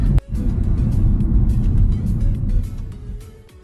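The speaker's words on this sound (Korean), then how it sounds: "속도는 한 40km로 P턴을 해 볼게요." Car taking a tight U-shaped turn at around 40 km/h with a crossed-hands steering technique, steady engine and tire rumble close by, slight sharp knock at the start, fading slightly toward the end.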